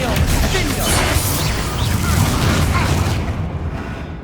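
Bombarda and Confringo blasts in Hogwarts Legacy, a continuous roar of loud explosive booms and crashing debris with a voice shouting spell names over it, dense and close throughout.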